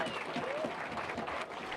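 Crowd applauding competition director Dave Kilby at the Surfest 2015 surfing event, a brief burst of dense clapping and cheering at close range, with someone speaking over it.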